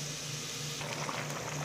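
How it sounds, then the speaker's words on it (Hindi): A pot of water comes to a steady rolling boil with a dense bubbling hiss while cooking potato tahari with green chillies, heard close and fairly quiet with no talking. "अब ये देखें ये पानी को जोश आ गया,"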